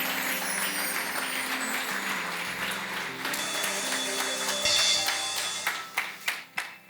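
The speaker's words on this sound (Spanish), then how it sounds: "Denle un aplauso al Señor" A church congregation claps in praise, sustained applause with faint voices mixed in, thinning at the end into a few loud, separate claps.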